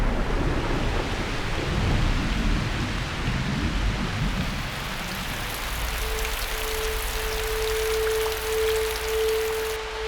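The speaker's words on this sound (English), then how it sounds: "This is the season of the short rains." Rain and thunder on the plains during the short rains season: a loud, dense wash of rainfall with deep rolling thunder rumbles underneath, later joined by a steady tonal hum, with no voices.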